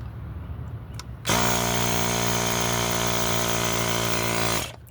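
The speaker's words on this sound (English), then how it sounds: "I usually put a little air in the tube first" Electric air pump putting air into the inner tube of a Nanrobot D4+ 2.0 e-scooter with split rims, a loud steady buzzing drone that starts abruptly, runs about three seconds close by, then cuts off.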